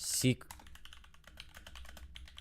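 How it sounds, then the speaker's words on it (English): Rapid typing on a computer keyboard: a quick run of close, light clicks and taps that continues steadily, with a brief louder knock at the start. "I hope my typing's not too bad here"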